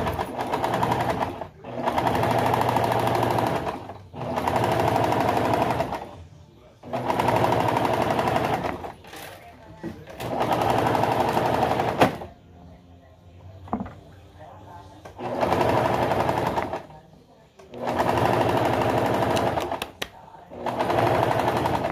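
Sewing machine zigzag stitching a table runner runs in repeated bursts of rapid mechanical whirring, each lasting a few seconds, with pauses between and occasional soft clicks and quiet speech.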